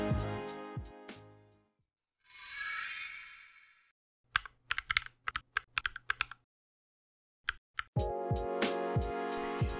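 Typing on a Gamakay MK61 60% mechanical keyboard fitted with Gateron Optical Yellow switches: close, crisp keystrokes arrive in quick clustered bursts separated by pauses, among other louder sounds.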